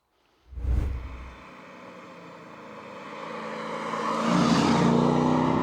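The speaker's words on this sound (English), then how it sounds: "that V8 power under the bonnet of this car. It pulls and it pulls" The V8 engine of a Mercedes C55 AMG W203 roars into life, then drones steadily and builds in pitch and loudness as it accelerates, heard close up.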